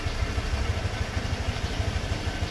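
A motorcycle engine idles while warming up before an oil change, a close, steady low putter with a quick even pulse that holds constant with no revving.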